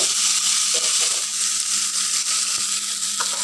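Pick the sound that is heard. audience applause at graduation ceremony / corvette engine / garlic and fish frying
garlic and fish frying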